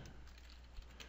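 Quiet, rapid keystrokes on a computer keyboard, a short soft burst of typing over faint background hiss.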